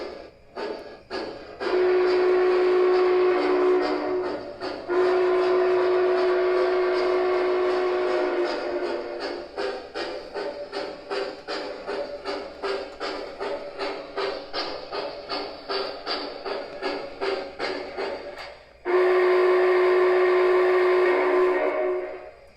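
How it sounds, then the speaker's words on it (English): An MTH model steam locomotive rolls by with a rapid, steady chuffing rhythm, sounding long whistle blasts near the start and again at the end, loud and close with no talking. "We'll have a video or two of each one of those locomotives running by so you can get some nice glimpses of them"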